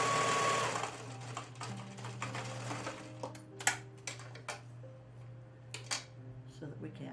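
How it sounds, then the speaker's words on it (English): A sewing machine runs steadily, stitching a holding line along fabric for a double drain bag pillow, with a constant motor hum, light mechanical ticks and brief pauses. "This particular line of stitching is just to hold it in place."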